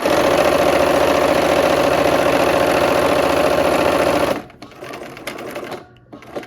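A sewing machine runs fast and steady while back-stitching fabric, a continuous whirring hum for about four seconds before it stops, leaving quiet room noise behind.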